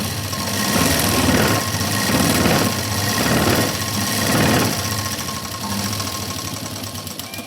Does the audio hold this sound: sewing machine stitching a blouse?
yes